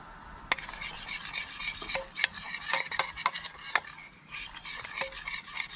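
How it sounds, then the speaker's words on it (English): Flour being stirred in a cooking pan at a lobster cookout, with steady scraping and clinking of a utensil against metal and a few sharp knocks, close and continuous without talk. "Stir it up, leave it to cook for probably about"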